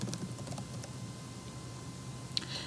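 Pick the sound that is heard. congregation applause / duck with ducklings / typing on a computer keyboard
typing on a computer keyboard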